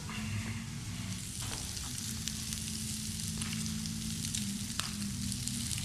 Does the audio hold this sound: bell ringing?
no